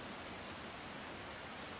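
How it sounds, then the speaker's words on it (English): Steady rain in Farming Simulator 25 with a twister nearby, a dense, even hiss of falling water filling the whole stretch with no breaks. "it started raining again because the twister's close"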